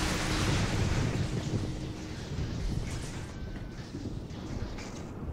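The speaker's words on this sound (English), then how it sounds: "I bring Electric Storm onto you." A thunderous electric storm power from the Infamous video game rumbles as a dense, roaring wash of low crackling noise, loud and continuous for several seconds, gradually easing slightly without talk over it.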